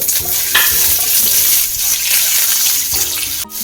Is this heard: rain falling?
no